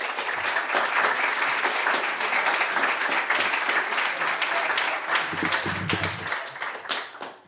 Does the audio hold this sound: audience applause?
yes